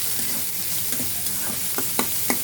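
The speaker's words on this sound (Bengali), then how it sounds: "পেঁয়াজটা এত বেশি ভাজবেন, একটু নরম হলেই হবে" Onion frying in a pan, a steady bright sizzle with a spatula scraping and tapping in quickening strokes near the end, close and alone.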